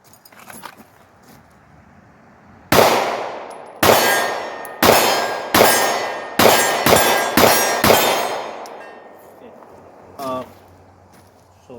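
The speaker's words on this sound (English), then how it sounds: "let's shoot this gun" An M&P Shield 9 pistol fires about eight sharp, loud shots at an uneven pace, each followed by a ringing outdoor decay. A brief, fainter sound follows after the shooting stops.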